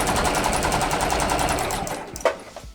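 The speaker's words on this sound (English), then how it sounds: "I'm going to add another row of stitches on top" A sewing machine runs steadily, stitching a row of fabric on a zipper pouch with a fast, even mechanical whir, then stops near the end with a few sharp clunks and clicks.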